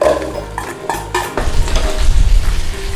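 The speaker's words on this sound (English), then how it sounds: "Quick little stir around." Garlic and onions frying in oil over a low flame, stirred around a pan with a few clinks of the utensil against the metal, then a steady close sizzle that grows fuller, with no talking.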